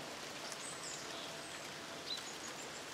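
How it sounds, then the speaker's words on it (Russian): Light drizzle falling outdoors in a foggy mountain village in central Greece, a soft steady hiss of fine rain with a faint bird call or two in the distance, calm and windless. "Идет мелкий дождь"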